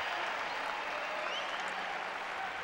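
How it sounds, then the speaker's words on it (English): Tennis spectators at the 2007 US Open clap during a third-round match between Maria Sharapova and Agnieszka Radwanska, a thick, even wash of crowd applause holding steady throughout. "A lot of clapping going on."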